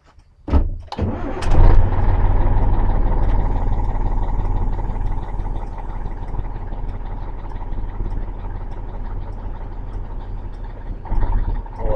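MAZ diesel truck engine being started: a short cranking burst, then a catch and a rough, loud steady idle that drones on for the rest of the stretch, with a slight swell near the end.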